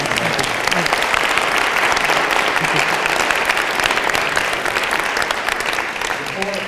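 Sustained applause from a lecture audience, dense and steady for several seconds, filling the room without a break.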